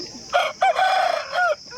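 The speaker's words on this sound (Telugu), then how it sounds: "ఇప్పుడు ఒరిజినల్ తమిళనాడు లైనేజ్ పుంజు అయితే చూపిస్తాను" A Tamil Nadu lineage native rooster crows once, loud and close, a drawn-out call with a few choppy breaks and a rising-falling end, with nothing else around it.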